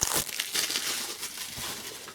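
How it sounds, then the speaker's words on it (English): Plastic shrink wrap crinkles and tears as it is pulled off a Nintendo Switch game case for Pokémon Scarlet and Violet, a steady, close, continuous rustle with no talking. "Take the shrink wrap off, of course."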